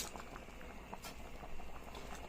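Ginisang monggo, a mung bean stew with sweet potato leaves, bubbling in a pot, a steady low simmering patter with small pops throughout, fairly faint and with no talk.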